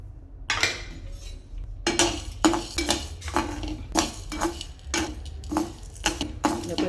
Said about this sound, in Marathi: आता हे पण चांगल्यापैकी लाल भाजून घ्यायचे आहे